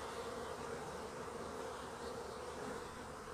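Honeybees buzz in a dense, steady drone around a busy hive full of workers, continuous and close, with no voices.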